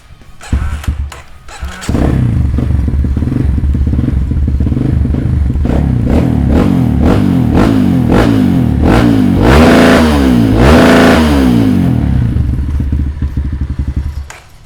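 A Kawasaki KLX150 dirt bike, repainted in KXF250 colours, is started after a few clattering kicks, then idles and revs repeatedly with sharp rising and falling throttle blips, loud and close, with no talking.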